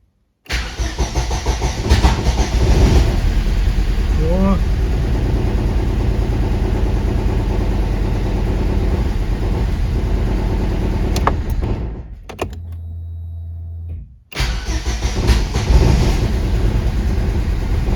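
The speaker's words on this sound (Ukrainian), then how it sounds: "Все, машина работает." A Daewoo Lanos engine runs steadily and loudly up close after its fuel pump was fixed. It sounds like a continuous idle that briefly dips and cuts out near the end, then picks back up.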